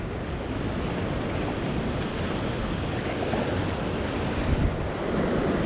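Strong ocean waves break on a rocky fishing spot at high tide, a continuous loud roar of surf mixed with wind noise, with no talking.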